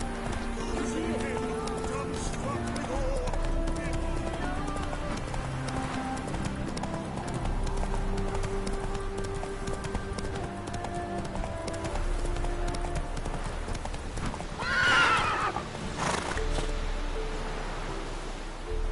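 Hooves of Roach, the horse in The Witcher video game, clip-clopping in a steady galloping rhythm, with a brief snort or whinny near the end and a voice speaking over it.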